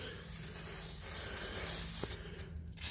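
A can of WD-40 sprays in a sustained hiss that stops for a moment, then a short burst, close and fairly quiet in a garage during a 1938 Ford truck restoration.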